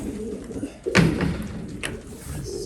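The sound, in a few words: racing pigeons arriving home at the loft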